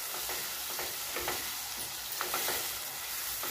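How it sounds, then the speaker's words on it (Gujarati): Thick tomato gravy stirred into hot ghee in a pan for sev tameta shaak, giving a steady soft sizzle with light scraping strokes of a spoon throughout, moderately quiet and without voices. "આપણે ઘી એડ કરીશું અને આપણે જે ટામેટાની ગ્રેવી બનાવીને રાખી છે તે એડ કરી દઈશું. બરાબર મિક્સ કરી લઈશું."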